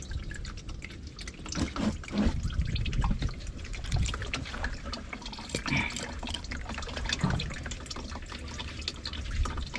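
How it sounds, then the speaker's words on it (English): Engine oil draining from a loosened oil filter during a car oil change, a close trickling and dripping stream that runs steadily with irregular splashes, no talk. "I'll loosen it a little bit, let it drain whatever the oil there is."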